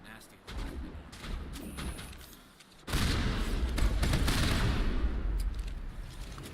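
Heavy turret gunfire in the video game Mass Effect, a sustained dense barrage that swells loud after a brief lull, with game ambience and a voice talking underneath.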